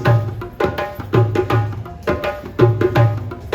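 Loud percussion beats out a swinging West African groove, deep thumps and crisp slaps repeating in a bouncy pattern with nobody speaking.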